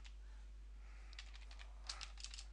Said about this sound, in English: Then type it here